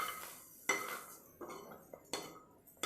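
Chopped garlic, ginger and green chilies stirred in a pan over a low gas flame, with a few distinct scraping clinks of a spoon against the metal, quiet and close, no talking.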